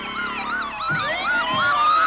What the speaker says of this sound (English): the sirens screech